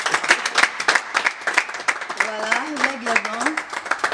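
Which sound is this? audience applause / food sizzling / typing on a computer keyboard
audience applause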